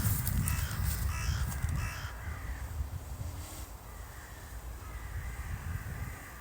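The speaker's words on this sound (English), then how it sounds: "So many birds in this area." Many crows caw near the water over an urban area on a late November day, repeated harsh calls at middle distance, louder at the start and then fainter, over a low rumble of wind.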